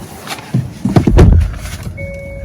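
Close, muffled thumps and rustling come as someone gets into a 2022 Hyundai Elantra Limited hybrid: a few soft knocks and shuffles, then a short electronic tone holds steady at the end.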